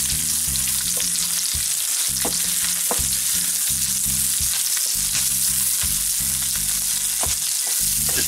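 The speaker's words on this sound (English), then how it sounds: "And to bring down the temperature, throw in my onion. I'll give that a stir around." Onion, ginger and shrimp fry in a hot pan while being stirred, giving a loud, continuous sizzle with scraping stir strokes throughout, no voices.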